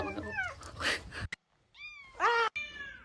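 A house cat meows insistently, several drawn-out complaining cries near and loud, separated by a short silence and a couple of sharp clicks.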